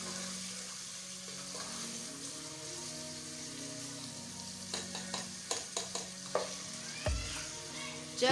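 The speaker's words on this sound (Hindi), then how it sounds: "3 से 4 मिनट हो चुके हैं चिकन को फ्राई करते हुए।" Chicken frying in a pan over a medium flame, a quiet steady sizzle that turns into a run of close spatula scrapes and clinks near the end, with a low thump at the finish.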